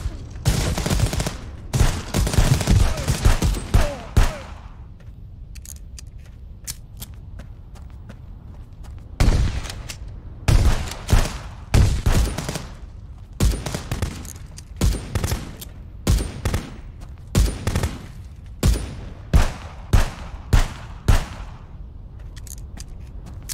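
Gunfire in the police game Contraband Police: a dense opening volley of rapid shots, a brief lull, then repeated bursts and single cracks in irregular rhythm, loud and close.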